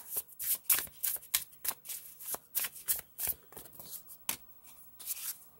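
Tarot cards are shuffled in quick, repeated riffling bursts, close and crisp, with short pauses between shuffles and no talking.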